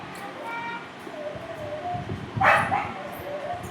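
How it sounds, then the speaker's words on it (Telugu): A dog at home barks and yips a few times at moderate distance, the loudest burst about midway, over steady household chatter and voices. "కుక్క దగ్గర పోతావా"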